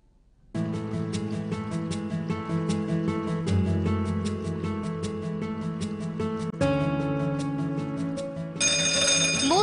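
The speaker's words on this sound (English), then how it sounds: "Most of us wake up to alarms." An alarm rings in a repeating, bright, melodic electronic pattern that starts abruptly after half a second of quiet and continues steadily and fairly loud, with the tone shifting slightly in later bars.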